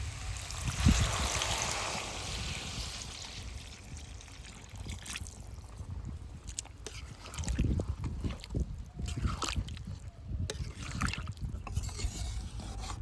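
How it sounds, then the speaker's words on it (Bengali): Water poured into a pan of frying potatoes for alur dom over a wood fire, a spilling, trickling rush with clattering and bubbling that fades into scattered stirring knocks. "একটু বেশি করে জল দিলাম"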